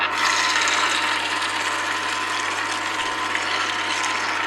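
An Angel Juicer grinds long-fibered produce with a steady, close mechanical ratcheting drone, gritty rasping and low gear hum running continuously without pauses or talk.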